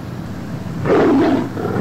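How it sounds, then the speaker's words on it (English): A lion gives one deep, loud roar that rises and falls over about a second, heard close and alone against faint background hiss. "Lion."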